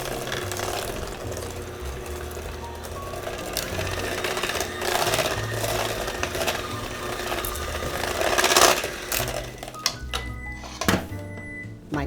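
Electric mixer whipping half a cup of heavy cream, a steady close-up motor whir with rattling, grinding texture running throughout, louder toward the end and then stopping, with no talking.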